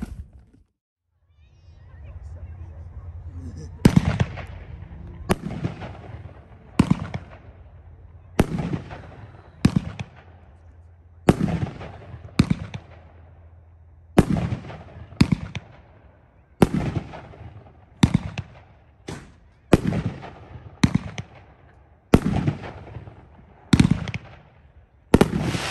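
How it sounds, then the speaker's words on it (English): A Spirit of '76 Honky Tonk Town 9-shot fireworks cake fired outdoors, launching a steady series of sharp booms about a second apart over a low rumble, loud and close with no talking. "This comes packed 4-1. This is a 9-shot cake. It is called Honky Tonk Town."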